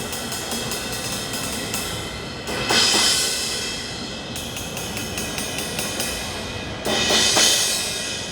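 18-inch thin Zildjian crash cymbals ridden with light rhythmic strokes, then crashed twice into a loud, bright wash that slowly rings out.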